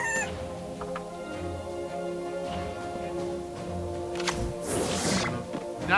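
Chicks from the mobile game South Park Phone Destroyer cluck and cheep in quick, bright bursts over steady game music, growing louder and busier toward the end.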